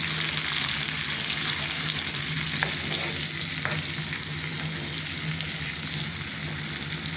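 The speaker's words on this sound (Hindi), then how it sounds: "अभी हम प्याज को डाल देते हैं। लहसुन हमारा ब्राउन हो गया है।" Chopped onion frying in a pan alongside garlic that has already browned, a loud, steady sizzle that holds unbroken throughout.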